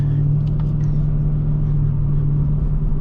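A cammed Ford Mustang 2V V8 holds a steady, loud, lumpy idle rumble close by, with a faint sound higher up and no talk.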